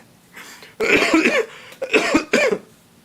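A man coughs in a few harsh, throaty bursts, close and loud, with short pauses between fits.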